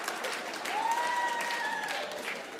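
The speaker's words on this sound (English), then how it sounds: "See some of you guys clapping" Audience at a stand-up comedy show clapping in steady, moderately loud applause across the clip, with a brief faint whistle-like tone partway through.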